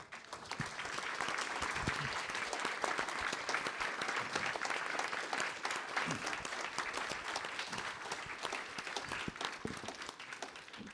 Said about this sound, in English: how about a round of applause for our guest tonight?